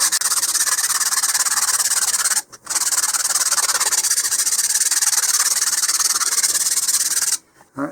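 Continuous loud rasping of sandpaper rubbed on wood, close up, in long steady strokes broken by two short pauses.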